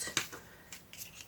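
Scissors snipping out paper elements for a craft piece: several short, crisp cuts in quick succession, close and quiet, with no voices.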